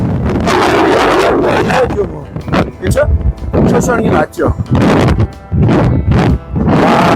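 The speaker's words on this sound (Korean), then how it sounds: "너무너무 바람이 세네요" Strong wind roars across a snowy mountain ridge in March, loud and gusting continuously with buffeting against the microphone, while people talk over it.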